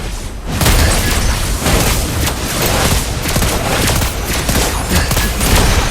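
Rapid gunfire from the hero Lesley in the mobile game Mobile Legends: Bang Bang during a ranked match, a loud dense fusillade of sharp booming shots that runs almost continuously, with no speech.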